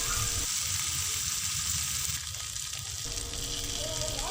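Fish frying on a covered tawa, a continuous close sizzle and hiss that stays steady throughout, dipping slightly midway.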